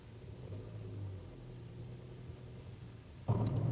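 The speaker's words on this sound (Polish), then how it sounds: "zamykamy drzwi i uruchamiamy silnik" Low, steady background rumble gives way near the end to a passenger car's engine starting abruptly, followed by a louder, close idle.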